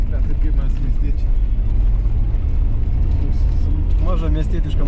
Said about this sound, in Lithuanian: Mažą miestietišką mašinytę atvažiavom čia.